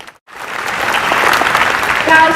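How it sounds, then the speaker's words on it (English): An audience at a political speech breaks into sustained applause, starting after a brief silence and building into dense, steady clapping. "So please join me in another round of applause."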